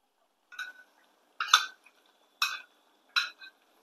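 A spoon stirs spice masala in a pan, giving four short separate metallic scrapes and clinks at an uneven pace with quiet between them, close up.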